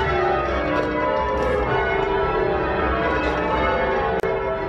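Church tower bells ring uneven rounds in change ringing, with overlapping peals sounding steadily and loudly through the full stretch of sound.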